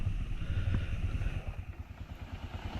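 A motorcycle engine putters and chugs nearby as the bike rides through a narrow village alley, its low pulsing exhaust steady and then fading slightly.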